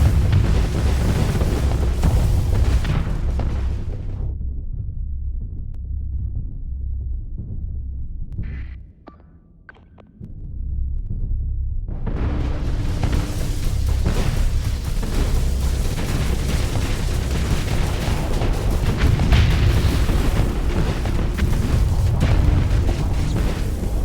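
A Tesseract ship exploding in the space game Starsector, a long deep rumbling roar that cuts out into near silence with faint pops, then returns as a heavy sustained boom.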